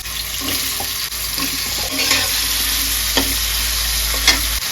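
Potatoes are frying in oil in a wok, with a continuous sizzle, a low steady hum beneath it, and intermittent scraping stirs and clinks roughly every second; no one speaks.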